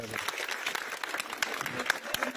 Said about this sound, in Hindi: बचाओ बच्ची के लिए ताली।